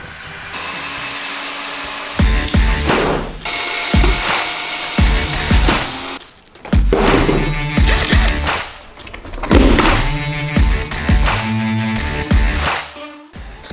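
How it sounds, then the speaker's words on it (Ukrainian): Rotary hammer drills, one straight and one barrel-type, pound into a concrete slab in loud, close, rapid hammering bursts, stopping and restarting several times with short pauses between runs. "А ми зараз спробуємо нашими перфораторами побити цю плиту"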